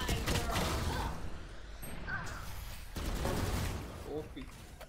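Rapid bursts of gunfire in the shooter game Valorant, repeated crackling volleys across the stretch with brief pauses, mixed with game effects and faint voice chatter.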